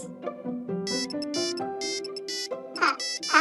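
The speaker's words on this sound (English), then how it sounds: "Uh-oh, I think that's my phone." A mobile phone ringtone plays a bright, stepping electronic melody in repeated phrases, loud and close, with no talking over it.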